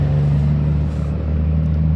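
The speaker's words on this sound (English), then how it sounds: "God damn, big ass truck. Just noisy for no reason." A big truck drives past noisily, a loud, steady, close engine rumble with a low hum that fills the whole stretch, with no talking over it.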